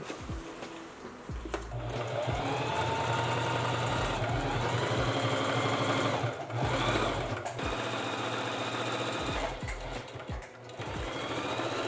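A sewing machine runs steadily and loudly with a fast mechanical whir, pausing briefly a few times before resuming, stitching patches onto denim pants.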